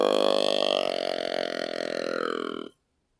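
A person imitates a buck deer's long, drawn-out grunt with the mouth, one continuous guttural tone of nearly three seconds that stops abruptly, close and loud.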